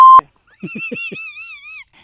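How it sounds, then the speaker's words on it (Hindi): A phone call on a radio prank show cuts off with one short, loud, steady beep, followed after a pause by a few soft knocks and a wavering electronic tone. "नेटवर्क का थोड़ा प्रॉब्लम है, फोन कट जा रहा है।"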